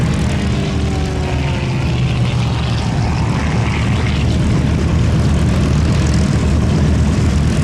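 A Red Bulls warbird propeller aircraft, one of the B-25, P-38, P-51 or Corsair display team, roars loud and steady through a smoke-on pull-up at the Sywell 2024 airshow, with a continuous, close engine drone throughout.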